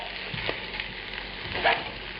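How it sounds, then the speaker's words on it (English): Potatoes and sausage sautéing gently in oil over low heat give a soft, continuous sizzle, with a couple of brief stirring scrapes near the pan. "You want to saute these potatoes in the oil, get some nice color on them"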